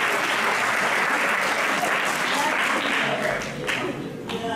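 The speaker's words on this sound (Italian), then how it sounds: "questo merita davvero un grosso applauso" Dense, loud theatre-style applause from a large audience at a sports awards evening in Melendugno, a continuous wash of many hands that eases slightly toward the end.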